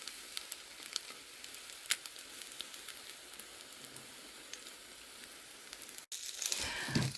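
French toast, egg-soaked bread, frying in a pan: a soft continuous sizzle with scattered crackling pops, close but quiet, ending with a brief clatter as the pan is handled.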